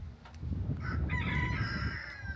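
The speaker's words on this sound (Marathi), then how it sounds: "येतो ना आवाज कोंबड्यांचा" Chickens cluck close by in a village setting near Pune while a rooster crows partway through, its call rising over the low clucking, with no speech.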